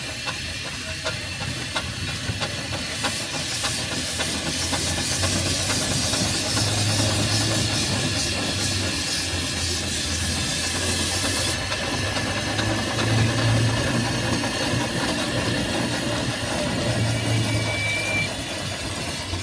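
A restored McLaren steam traction engine from Leeds runs at a steam threshing festival, giving a loud, continuous steam hiss over a low engine chug with faint periodic knocking, with no talk.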